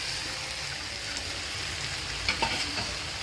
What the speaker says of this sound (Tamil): கொட்டிட்டு நல்லா கிண்டி விடுவோம்.